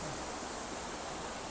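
A waterfall at Khandala, a steady, broad rushing roar of falling water that stays even throughout and is heard alone, fairly distant and soft.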